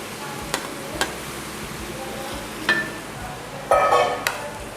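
Crushed ginger dropped into crab roast masala frying in a pan: a low, continuous sizzle broken by scattered sharp spatula knocks, with a louder crackling burst near the end.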